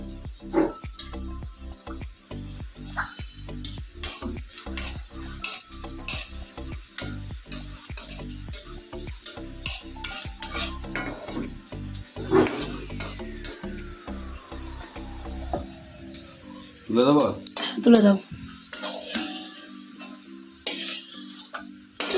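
Whole garlic frying in oil in a pan, a steady sizzle broken by repeated scraping stirs in a regular rhythm, with a metallic clatter of the pan near the end and crickets chirping in the background.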